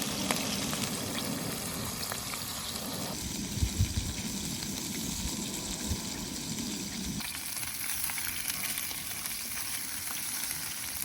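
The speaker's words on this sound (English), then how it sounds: "Let the frog legs sizzle." Frog legs fry in plain oil outdoors, a steady crackling sizzle with occasional louder pops and bubbling, holding a fairly even level throughout without any talk.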